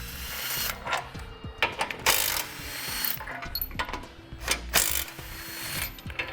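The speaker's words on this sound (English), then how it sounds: "We'll take a 15 and take out these 3 bolts." Ratchet wrench with a 15 mm socket backing out bolts from the front corner plates behind the bumper of a 2015 Jeep Cherokee, rapid pawl clicking in repeated close bursts between clinks of metal.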